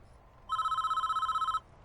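A telephone rings in the prison-building game Prison Architect, one continuous electronic trilling ring of about a second, bright and warbling, standing alone over a faint low background hum.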